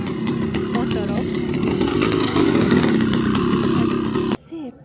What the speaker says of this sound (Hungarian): Bicikliből szerkesztett motorok.